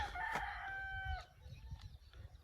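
A rooster crows once with a long drawn-out call, fairly distant, over a low rumbling background, in Zamboanga del Sur, Philippines.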